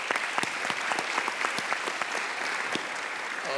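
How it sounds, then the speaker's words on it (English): Brief audience applause for speakers at a New School parks panel event, a moderately distant crowd clapping steadily with a few sharper individual claps standing out. "Please give them a round of applause."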